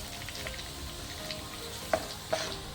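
Whole coarse spices roasting in hot oil for a traditional raw mango pickle: a soft steady sizzle with two distinct spoon clinks near the end, no speech.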